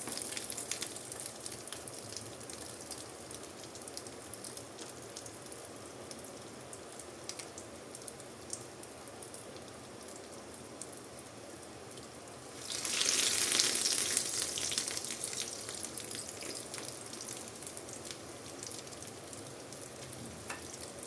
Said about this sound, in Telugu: ఇలా చేసుకొని మీడియం ఫ్లేమ్లో పెట్టుకొని వీటిని ఫ్రై చేసుకోవాలన్నమాట.